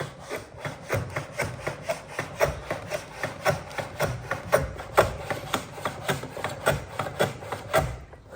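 A hand plane is pushed along a shooting board to trim the end of a wooden workpiece flat, making a steady series of about twenty rhythmic rasping strokes close up, with no talking.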